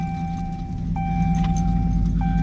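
A truck engine idles and cuts off while keys jangle in the ignition, bright metallic clinks in brief bursts over the low steady motor rumble, close by with no talk.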